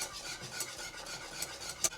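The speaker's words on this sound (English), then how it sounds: "Stir it continuously while adding the eggs slowly." A lemon curd mixture is stirred continuously in a pan while eggs are slowly added, with soft, quiet scraping strokes and a light clink near the end.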